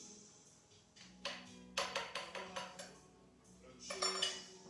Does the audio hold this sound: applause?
no